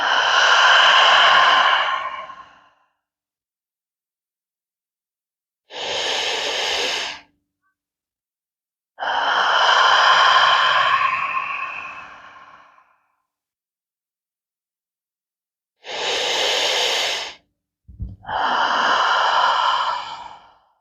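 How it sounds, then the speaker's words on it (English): Slow, deep breaths during a yoga stretch: long audible exhales alternate with shorter inhales, five breath sounds in all, close and clear against silence, with no talking. "we're going to breathe deeply and really open up that back with the breath"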